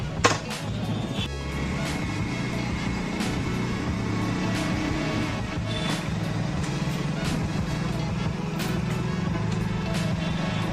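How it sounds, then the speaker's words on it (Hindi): A vehicle's engine turns over and settles into a steady, close idle hum that runs unbroken for about ten seconds with no one speaking. "स्टार्ट हुई है गाड़ी"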